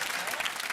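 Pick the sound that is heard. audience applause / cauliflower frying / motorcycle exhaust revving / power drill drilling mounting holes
audience applause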